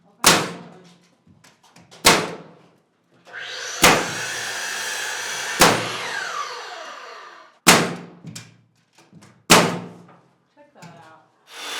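A compressor-powered nail gun drives nails into wood while a seed-starting room is being insulated. About six sharp, loud bangs land roughly two seconds apart, with a stretch of hissing air and rumble between the middle shots.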